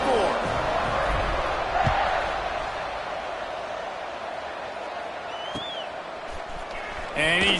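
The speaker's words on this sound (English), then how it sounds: "this crowd is buzzing after that last score" Football stadium crowd at an Auburn vs. Tennessee game roaring and murmuring after a score, a dense broad wash of noise with commentary running over it.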